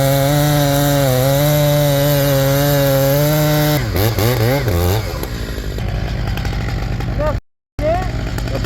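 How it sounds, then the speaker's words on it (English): A chainsaw runs loud and close while cutting firewood logs, its engine droning steadily and then bogging and revving unevenly as it bites into the wood. "I love this chainsaw."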